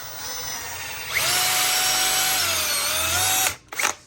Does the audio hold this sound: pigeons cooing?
no